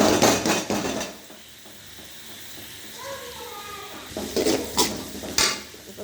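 Cabbage goes into onions frying in a pan for egg noodles, bringing a rustling sizzle and sharp clatters of a spoon stirring against the metal pan, loud bursts at the start and end with a quieter stretch between.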